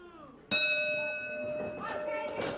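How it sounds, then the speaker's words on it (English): A ring bell at a Big Time Wrestling match in Detroit strikes once with a sharp, ringing tone that decays slowly, followed by a few lighter dings as an announcer talks in the background. "The bell sounds."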